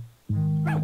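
A cartoon puppy in the children's game Fatty Bear's Birthday Surprise gives one short, bright, tonal bark-like yip, close and clear after a brief silence.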